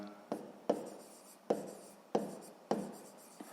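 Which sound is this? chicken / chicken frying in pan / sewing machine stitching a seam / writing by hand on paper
writing by hand on paper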